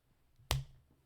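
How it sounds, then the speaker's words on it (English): A single sharp finger snap, close and fairly loud, standing alone against a quiet room with no talking. "whenever he makes that loud noise like a clap or a snap"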